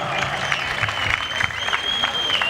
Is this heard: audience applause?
yes